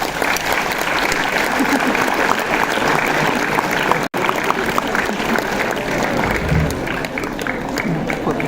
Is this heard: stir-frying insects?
no